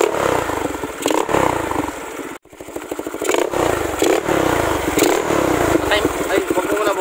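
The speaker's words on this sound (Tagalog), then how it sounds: "Parinig nga natin yung motor mo. Ayan 160cc." A Yamaha Mio 160cc scooter engine revs repeatedly up close, rising and falling in sharp bursts with crackling exhaust and one brief cut-off, while people talk nearby.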